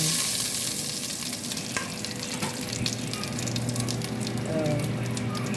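Garlic sautéing in hot oil in a pan for sinigang, a steady loud sizzle and crackle with stirring scrapes and a few clinks throughout.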